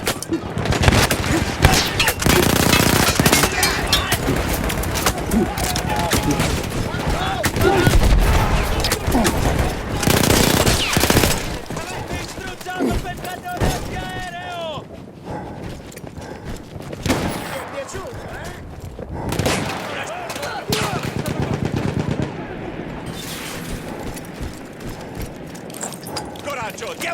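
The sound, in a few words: machine gun firing in Battlefield 1 video game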